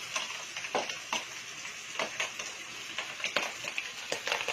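Tuna burger patties fry in a big pan, giving a soft, steady sizzle with scattered light crackles and pops spread through the whole stretch. The sound stays close and fairly quiet, and no one speaks over it.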